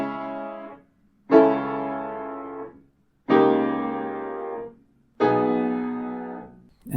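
Orchestral excerpt from the second movement of Bach's Brandenburg Concerto No. 1, with a melody over a bass line accompaniment, played as three sustained phrases separated by brief silences.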